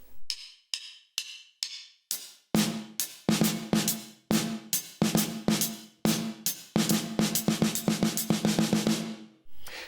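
Drum kit playing the swung, upbeat intro groove of a song: sparse hand hits at first, then a steady, loud, driving pattern of snare, cymbals and kick at full tempo, with no voices.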